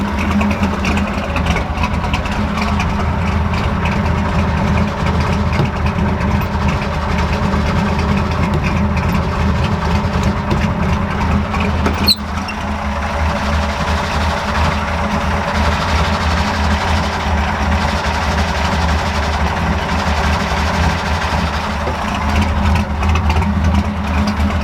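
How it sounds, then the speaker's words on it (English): Ford F100 engine idling with a failing throwout bearing, a loud steady low rumble with a faint sustained whine layered over it and a single brief click midway. "right when I push the clutch in, the throwout bearing starts like whining really bad"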